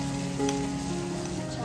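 A masala mixture with garam masala powder and chutney sizzles steadily in a pan while being stirred for a dried shrimp (jawla) dry gravy, a close continuous crackle over a faint steady hum.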